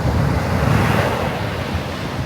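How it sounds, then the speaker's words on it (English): Ocean waves crash and wash continuously onto the Delaware shore, a loud, steady roar of surf with some wind buffeting the microphone and no voices. "It's those crashing waves that make people happy to call Delaware home"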